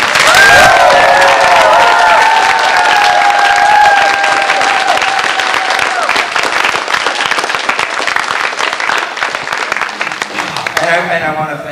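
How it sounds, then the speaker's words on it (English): Loud sustained applause and cheering from a crowd honouring volunteers at an FTC robotics regional qualifier, with whoops and shouts over dense clapping that thins toward the end. "I want to give a big round of applause to all the volunteers involved in this"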